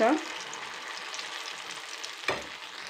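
Jaggery pitha batter frying in hot oil, a steady close sizzle that begins with a brief louder burst and carries one short scrape or splash partway through.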